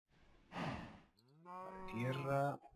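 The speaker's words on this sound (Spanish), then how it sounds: "Ahora tenemos un montón de vacas." Cows mooing in Minecraft video game: a short breathy low moo followed by a longer, rising, tonal moo, both clear and close against near-silence.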